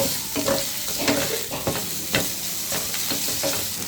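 Chicken seasoned with black pepper, chili flakes and salt fries in a pan, a loud steady sizzle broken by repeated scraping stirs at an uneven rhythm, close up and without talk.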